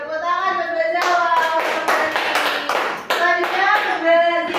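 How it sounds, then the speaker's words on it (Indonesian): Audience of a classroom micro-teaching session claps hands: a brisk burst of many hands clapping together for several seconds, with children's voices singing or chanting at the start and end. "tepuk tangan buat Mbak Zawa."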